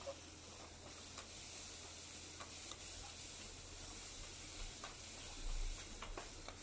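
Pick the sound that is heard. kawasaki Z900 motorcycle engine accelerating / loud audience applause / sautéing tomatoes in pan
sautéing tomatoes in pan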